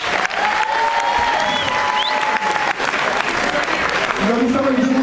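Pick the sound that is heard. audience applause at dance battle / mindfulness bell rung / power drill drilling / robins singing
audience applause at dance battle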